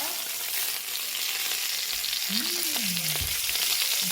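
A beef sirloin steak sizzles steadily in a de Buyer iron pan, a constant bright crackle and hiss close up, with a brief low sliding tone and a thump partway through as the steak is handled.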